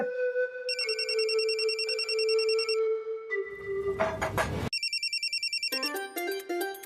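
An electronic phone ringtone plays a bright, repeating melodic pattern, clear and close, with a brief noisy burst in the middle.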